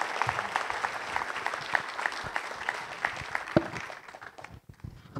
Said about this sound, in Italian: quindi un applauso supplementare ci andrebbe